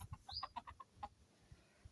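A gold rooster with black-edged plumage clucks quietly at a home poultry breeding setup, a quick cluster of short chirpy clucks followed by a couple of softer ones and low background rustle, no talking.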